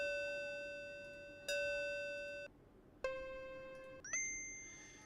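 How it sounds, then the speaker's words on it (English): A chime-like bell sound effect for a game jam project plays several times over: clean struck tones, each ringing out and fading before the next strike, with a brighter, higher pitch at the end and no voices. "It's the same bell the whole way through."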